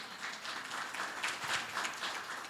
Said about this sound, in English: Make some noise to show an applause.